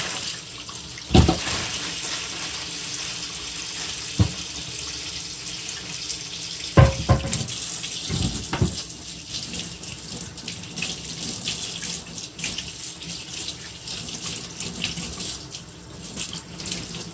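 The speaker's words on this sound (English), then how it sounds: "So right now I'm just rinsing off the crab legs." Kitchen tap water running steadily into a sink while crab legs are rinsed for a seafood boil, with a few sharp clunks and knocks of the shells against the basin.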